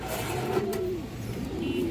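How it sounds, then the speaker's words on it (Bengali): A khaki male pigeon coos nearby in a couple of low, rolling phrases against faint background noise. "খাকি নর কবুতর"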